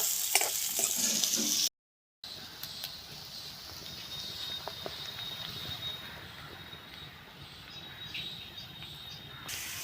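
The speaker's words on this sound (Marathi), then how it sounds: "आणि हे कांद्याला चांगला सोनेरी कलर येईपर्यंत" Onions frying in a pan while being stirred until golden, a steady close sizzle and crackle with soft scraping stirs, broken briefly by a moment of silence near the start.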